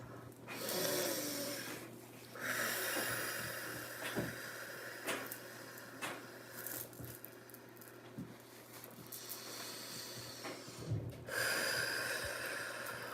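Slow, soft breathing during a guided breathwork session, drawing air in through the nose and letting it out through the mouth, with airy inhales and exhales rising and falling over a steady low hum, no talking.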